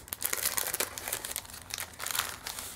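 Scissors snipping open a package, mostly heard as loud, close crinkling and crumpling of packaging in irregular bursts with a few sharp tearing notes, no one talking.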